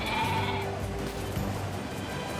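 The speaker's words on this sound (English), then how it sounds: "Gonna kill more sheep?" Sheep bleating in the video game NieR Replicant, a couple of drawn-out bleats over steady game ambience, fairly close and clear with no talk.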